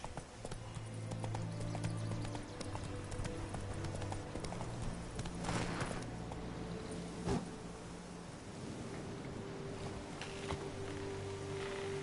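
Hooves of the horse Roach clip-clop at a steady walking rhythm in a fantasy video game, close and even throughout, layered over a low ambient hum with occasional clanks and no talking.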